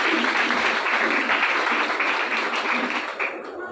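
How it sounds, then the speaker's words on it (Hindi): A church congregation gives loud, dense applause that holds steady for several seconds before tapering slightly at the end. "जोरदार तालियां यीशु के जलाल के लिए चाहिए।"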